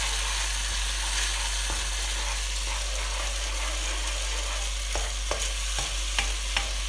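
Curry paste from a jar being stirred in a hot pan, a steady low sizzle throughout with a few sharp spoon scrapes and clicks against the pan near the end.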